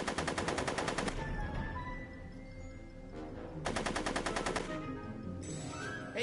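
Gunfire in a Back to the Future video game: two rapid bursts of repeated shots, loud and close, separated by a quieter stretch with faint game sounds.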